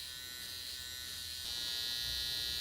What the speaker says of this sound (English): We're going to use our trimmer inverted to punch a line in